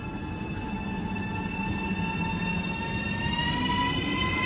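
A night freight train rolls past with a continuous low rumble of wagons and a thin high metallic whine from the wheels, steady and moderately loud, no voices.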